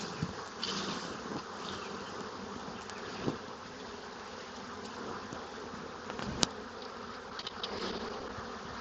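Honey bees buzz steadily around a freshly built piece of comb, a continuous close insect drone with occasional louder passes and faint clicks, no talking.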